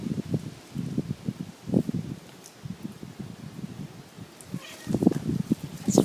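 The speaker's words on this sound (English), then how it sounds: "It's windy out here." Wind gusts buffet the microphone in low rumbling bursts, uneven and close, with rustling between the blasts.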